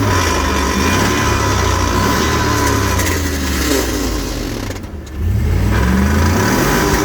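A Chevy Suburban with a blown rear end revs hard and spins its wheels freely, the engine roaring loudly up and down in pitch, with a brief dip before it surges again.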